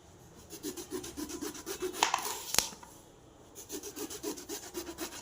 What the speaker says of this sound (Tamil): நம்ம ரவுண்ட் ரவுண்டாக கட் பண்ணிக்கலாம்